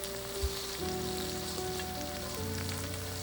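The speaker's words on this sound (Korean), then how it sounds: "향이 우러나오면 풀치를 넣어 튀기듯 구워주세요" Steady crackling sizzle of small hairtail fish frying in hot oil with ginger, continuous and close, with a faint low hum underneath.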